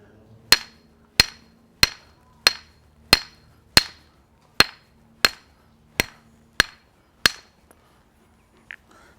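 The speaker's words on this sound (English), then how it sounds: "So I hit it on an edge." Stone knapping in an Aboriginal Australian tool-making demonstration, a stone struck on an edge: eleven sharp, ringing clicks at a steady, unhurried rhythm, close and clear, with one faint tap at the end.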